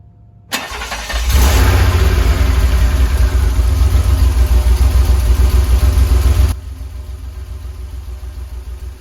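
A DeLorean engine with Bosch Jetronic fuel injection starts from stone cold: a brief crank catches and it settles into a loud, steady idle, then drops to a quieter, lower idle for the last few seconds. Nobody speaks.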